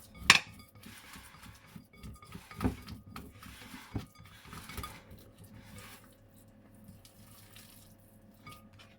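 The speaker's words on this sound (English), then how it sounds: "this is where sometimes a spatula comes in helpful, because you can scrape it all down" A spatula scrapes muffin batter down the sides of a mixing bowl in a kitchen, giving a few distinct scrapes and knocks against the bowl over a low, steady background hum.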